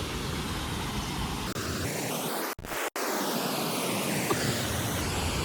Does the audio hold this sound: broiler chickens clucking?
no